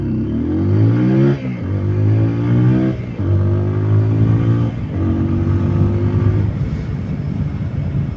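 A TVS Apache 200 BS6 motorcycle engine in sport mode revs hard and climbs in pitch through several gear shifts, loud and close, with brief dips between each acceleration.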